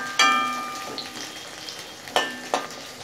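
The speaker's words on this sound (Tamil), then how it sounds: "ஆயில் சூடாயிடுச்சு. இதில் ஒரு 200 கிராம் அளவுக்கு சின்ன வெங்காயம் சேர்த்துக்கலாம்." Small onions tossed into hot oil, with a sharp sizzle and clatter near 0.2 s, then two more bright stir-scrapes with fresh crackling later on, close by and with no voice.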